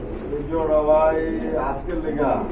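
Danish pigeons in a loft for sale, giving soft, throaty coos that swell and fade over a few seconds, close by and mixed with a faint background murmur.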